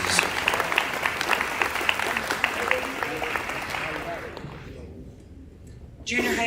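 Audience applause at a middle school honors ceremony. A dense, steady round of clapping lasts several seconds, tapers off into a brief quiet gap, then resumes sharply at the end.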